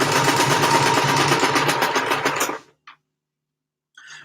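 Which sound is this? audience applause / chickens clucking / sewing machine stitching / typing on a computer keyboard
sewing machine stitching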